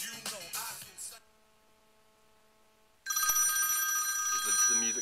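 A telephone-style ringtone for an incoming call on an iPod Touch docked in an Altec Lansing inMotion portable speaker rings loud and clear after a short break in the music.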